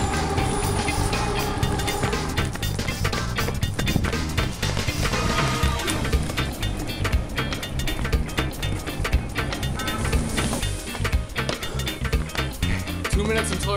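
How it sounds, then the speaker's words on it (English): A train rumbles and clatters loudly and continuously, with rattling wheels and metallic clanks filling the whole stretch. "Train arrives here as per schedule."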